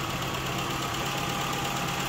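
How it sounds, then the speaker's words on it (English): A tuned car engine idles smoothly and steadily, a continuous close mechanical hum and rumble with no breaks or talk. "But I do think that this engine's running fairly smoothly."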